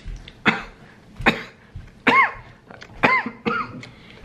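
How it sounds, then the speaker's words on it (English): A person who is unwell and achy coughs dry and hacking in a series of about six separate bursts at irregular spacing, close to the microphone, with some coughs carrying a voiced rasp. "I have this cough. It's a dry cough."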